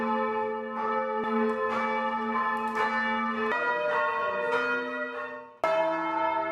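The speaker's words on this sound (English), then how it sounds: "At last the bells could be rung in their new home." Church bells, including a big tenor bell, ring in a steady overlapping sequence, each strike ringing out with long resonant tones, close and full.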